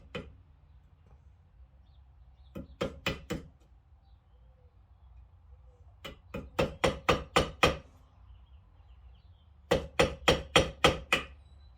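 Three bursts of rapid metallic hammer strikes knocking out a center part during brake repair on a 1970 Chevrolet C10, each a quick run of four to seven blows, ringing sharply near the microphone over a low hum.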